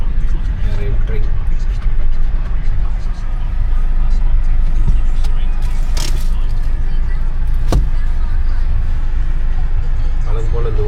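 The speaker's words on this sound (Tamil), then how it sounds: "வழக்கம் போல் இந்த ஊரில் டிராஃபிக்கில் மாட்டின்னு இருக்குது." Street traffic in Manila's Chinatown gives a steady close rumble of vehicles, with occasional clinks and sharp passing noises, while people talk over it.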